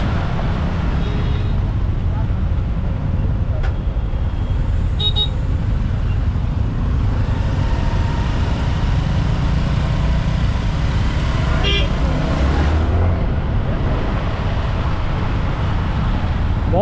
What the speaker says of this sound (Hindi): बहुत ज़्यादा लंबा ट्रैफिक है पूरा एंड तक का ट्रैफिक है